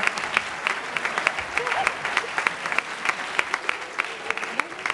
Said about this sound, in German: Vielen, vielen Dank für den Applaus.